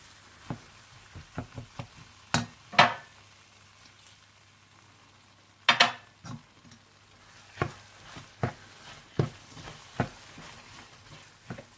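Chana dal halwa roasting on low heat, with occasional sharp stirring scrapes and soft spattering pops scattered over a faint steady background hum, no speech.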